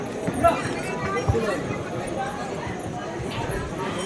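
Horse hooves clip-clopping on the Vaishno Devi pilgrimage path, irregular knocking steps amid a busy crowd, with people talking and chattering throughout.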